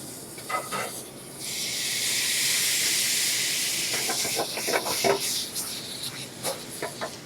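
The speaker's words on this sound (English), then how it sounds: "So now, we're gonna add a little bit wine." Wine poured into a hot pan while cooking Italian food sets off a loud, sustained steaming hiss that swells for a few seconds, then breaks into crackling sizzle and small pops as it settles.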